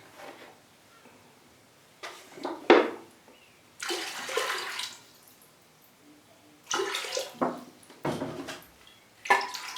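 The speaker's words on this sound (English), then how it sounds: "So if I put some water in" Water is poured in short bursts into an orchid feed mix, giving several splashy pours separated by brief pauses, close and moderately loud.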